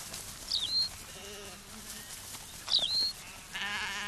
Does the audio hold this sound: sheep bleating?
yes